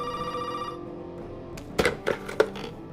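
Telephone ringing in the Resident Evil 7 demo video game: a trilling ring fades out, followed by a few sharp knocks or thuds in a quiet room.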